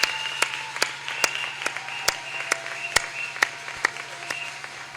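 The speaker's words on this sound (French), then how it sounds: "On acclame pour eux." A church congregation applauding a couple, with steady clapping from many hands close by and a few louder individual claps standing out in an irregular rhythm, no voices over it.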